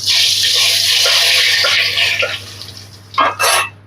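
Dried red chilies added to hot mustard oil with bay leaves in a kadai, giving a loud, close, dense sizzle. The sizzle fades and then flares in two short bursts near the end.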